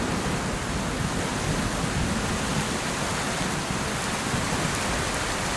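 Heavy storm rain in the video game Bootstrap Island, a dense, constant, loud rush of rainfall with no breaks and no voices.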